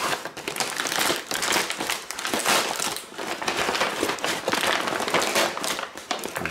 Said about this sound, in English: Rip some of this tape.